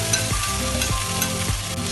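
Beef and flat kuey teow rice noodles sizzle loudly in a hot wok, tossed together with a chopstick in three sweeping, rhythmic strokes over a constant frying hiss, with no talking.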